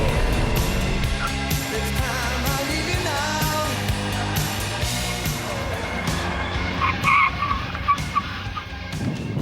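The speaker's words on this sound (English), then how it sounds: "I'm going to drive the car down this slalom to see how it handles normally" A car on run-flat tyres weaves through a slalom course, its tyres skidding and squealing in long, shifting whines over steady engine and road noise that rises toward the end.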